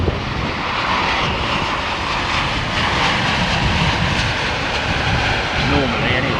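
Aircraft engines winding down toward idle at London Heathrow, a steady broadband roar that stays loud and constant throughout with no talk over it.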